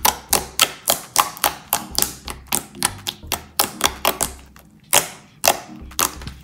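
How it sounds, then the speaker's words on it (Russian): Fully activated slime clicks and pops sharply in a rapid, fairly regular series of close, loud snaps, about three per second, with no talk over it. "Он очень классно кликает"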